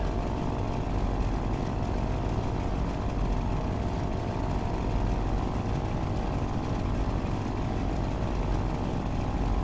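Steady droning hum of an aircraft engine taxiing in Microsoft Flight Simulator X, a constant low rumble at even loudness throughout, no voices.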